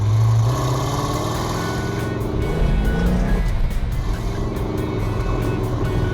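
A 1969 Dodge Super Bee with a 440 six-pack and four-speed, engine roaring loud and close with rising revs and a sustained tire squeal throughout.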